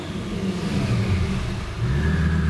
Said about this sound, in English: If I rev it high and then just let off the gas